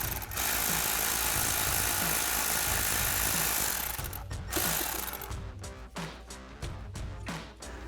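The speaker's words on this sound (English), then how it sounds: "I'm going to grab a 10 millimeter socket to remove the bolt holding in our brake line bracket" Mechanical clatter of a ratchet working a 10 mm socket on a brake line bracket bolt of a 2012-2020 Dodge Charger, a steady dense whirring for about four seconds, then broken into short clicks and bursts, close and moderately loud.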